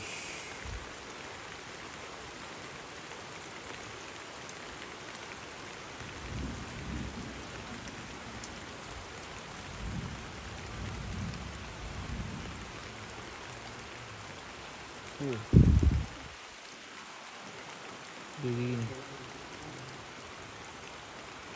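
Heavy afternoon rain pours steadily onto a traditional Toraja tongkonan house, with a low, close rumble of thunder rolling in near the middle and a softer one after, while a voice briefly speaks.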